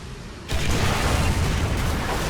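A tank shell from an SU-152 strikes in the tank battle video game War Thunder, an abrupt loud boom that cuts in after a quiet half second and rumbles on as a heavy, sustained roar.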